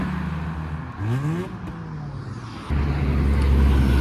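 A VW Polo pulls away from a Japanese car meet alongside a superbike, a loud nearby engine rising in pitch as it revs and accelerates, followed by a deeper, steadier rumble that swells toward the end.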